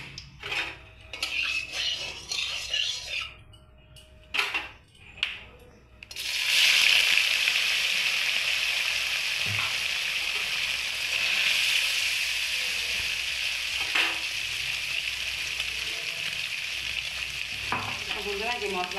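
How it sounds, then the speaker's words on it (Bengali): Paneer drops into hot oil in a kadai and breaks into a loud, steady sizzle that holds to the end, after a few clinks and knocks of utensils. "এবারে কড়াতে আমি তেল দিয়ে দেবো, দিয়ে পনিরগুলো দিয়ে দেবো।"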